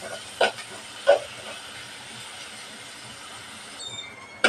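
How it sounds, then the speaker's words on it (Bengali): Chopped onion frying in a little oil in a pan gives a steady, even hiss, close and alone, with a couple of brief louder bursts early on. "পেঁয়াজটা ভালোভাবে ভাজিয়ে নেব।"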